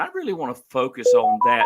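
Studio telephone hooked into a podcast setup emits a short run of steady dialing tones near the end, heard under ongoing talk.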